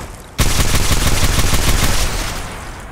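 Gunfire in Apex Legends Mobile: a loud, rapid burst of automatic shots starting abruptly and rattling steadily for a couple of seconds before tapering off, close and dominant.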